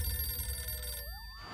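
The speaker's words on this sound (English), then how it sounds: "that phone over there is gonna ring" A telephone rings with a bright, electronic trill, loud and close, over a low rumbling background before cutting off abruptly.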